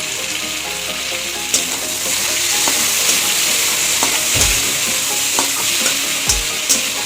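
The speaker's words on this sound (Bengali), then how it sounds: "চিংড়ি মাছ খুব বেশি ভাজবো না বেশি ভাজলে শক্ত হয়ে যায়" Prawns frying in hot oil in a kadai, seasoned with salt and turmeric, sizzle loudly and steadily, broken by a few sharp spatula knocks and stirring scrapes.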